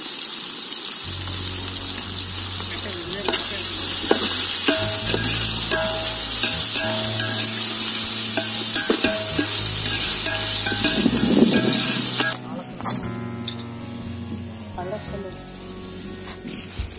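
Ginger garlic paste sizzling in hot oil, stirred with steady scraping, close and loud with a continuous hiss, frying for biryani in an outdoor village kitchen, with voices talking at times.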